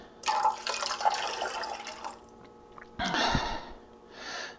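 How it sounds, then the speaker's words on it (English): Gravy being poured into a pan while cooking sirloin tip roast beef sandwiches, a liquid splashing and burbling near the microphone in two bursts with a short pause between them, no voices. "I'm gonna pour the rest in."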